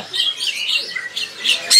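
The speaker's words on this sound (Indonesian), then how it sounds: "Jadi jalak Brahmana ini dia burung jalak impor dari India punya, Mas" A Brahminy starling imported from India gives a quick run of harsh, squawking calls at close range in a bird shop, several rasping notes across a couple of seconds, with a louder burst at the end.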